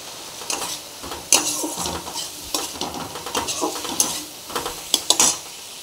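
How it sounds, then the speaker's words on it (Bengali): Cumin powder, coriander powder and a little ginger fry and sizzle in a pan for fish curry, with repeated scraping stirs and sharp clinks of a spatula on metal, close and moderately loud, no talking. "দেখুন আমার মশলাটা একদম ভাজা হয়ে গেছে।"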